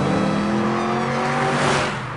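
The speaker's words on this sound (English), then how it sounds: "Even against the car I'm driving right now?" A 1966 Ford Cobra 427 drives close by, its V8 engine roaring loudly and steadily under load, then easing off slightly near the end.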